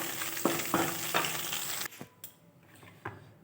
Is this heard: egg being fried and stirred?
yes